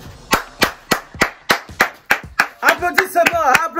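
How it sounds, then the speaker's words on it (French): Hands clap in a steady, evenly spaced rhythm, loud and close, and voices chime in over the last second or so. "Applaudissements."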